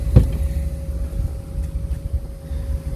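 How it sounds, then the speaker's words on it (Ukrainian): A Honda CR-V engine idles steadily after starting, a low continuous rumble with a faint steady hum and small fluctuations, close by and without voices. "Так, у нас заведена машина."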